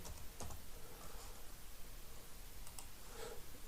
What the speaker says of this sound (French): Je tape mes trois nombres.